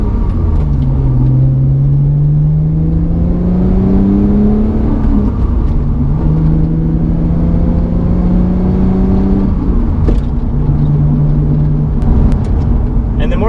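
A manual-transmission car pulling away and accelerating through the gears, engine drone rising in pitch, dropping at each shift, then climbing again, close and loud with road rumble underneath.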